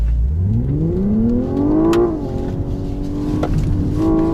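A Hyundai Ioniq 6 N electric car's simulated engine note climbs steadily in pitch while accelerating, drops sharply with a simulated gear shift near the two-second mark, then rises again, loud and close.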